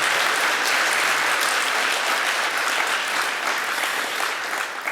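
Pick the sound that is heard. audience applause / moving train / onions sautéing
audience applause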